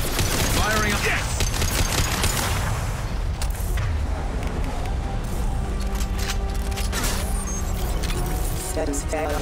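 Gunfire and explosions from the Mass Effect 2 video game crackle in dense, overlapping bursts throughout, loud and continuous, while someone talks over the game audio.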